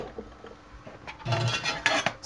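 Plastic and metal parts of a Bosch MCM62020GB food processor clatter as the dicer disc is removed and the slicer disc fitted, a short run of close knocks and scrapes that grows louder toward the end.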